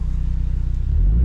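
A 2024 Ford Mustang EcoBoost Premium's engine and exhaust in track mode, a deep, steady pulsing rumble close by that swells slightly toward the end, with no voices.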